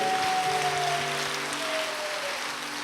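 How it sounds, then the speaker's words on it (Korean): A congregation applauds during a special dawn prayer service at a church, dense clapping blending into a steady wash, with faint sustained organ-like tones underneath. "하나님께 영광의 박수 드립니다"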